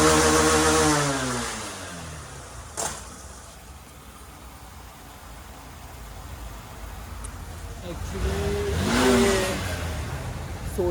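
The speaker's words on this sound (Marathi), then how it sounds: "सोडते गाडी सोडते, पिकअपच सोडते पॉवर" A Royal Enfield Classic 350 motorcycle engine that keeps losing pickup and power revs up loudly at the start, fades to a low idle, then surges again before dropping off near the end.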